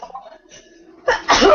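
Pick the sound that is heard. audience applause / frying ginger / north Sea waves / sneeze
sneeze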